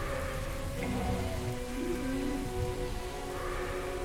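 Rain in Gibbous - A Cthulhu Adventure, a steady dense wash of falling drops with a low rumbling underlayer, continuous and even throughout, heard alone without speech.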